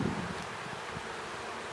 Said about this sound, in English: let these bees crawl home